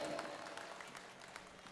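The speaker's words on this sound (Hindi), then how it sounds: "पूरा मंच तालियां बजाए।" Poets on stage at a Hindi poetry gathering clap for the audience and organisers, a soft, dense patter of applause heard faintly from a distance.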